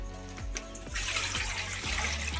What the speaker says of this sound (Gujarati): પાણી નાખી દીધું છે જોઈ શકો છો આપણે લાપસીનું આંધણ મુકાઈ ગયું છે